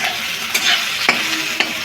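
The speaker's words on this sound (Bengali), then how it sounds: "কি সুন্দর ভাজা হয়েছে আলুগুলো" Potatoes frying in a pan with a bright, continuous sizzle, close and fairly loud, with a few sharp stirring scrapes breaking through over two seconds.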